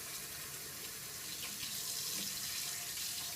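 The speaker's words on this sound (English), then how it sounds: "Turn the water on." Steady rush of water pouring from a kitchen tap, a continuous broadband hiss with no voices, moderately quiet and close.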